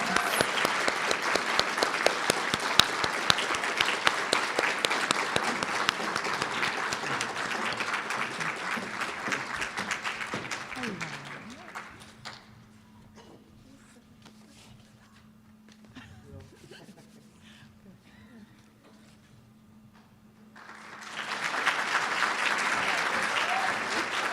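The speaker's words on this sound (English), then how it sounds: "give Larissa another big round of applause" An audience at a student awards night claps for award recipients, with dense, steady applause for about ten seconds, a quiet gap with a low hum, then another strong burst of clapping.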